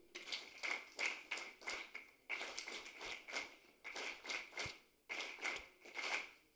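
A career fair audience claps in repeated bursts, four dense rounds of many hands separated by brief pauses, each burst swelling and fading, fairly close and loud.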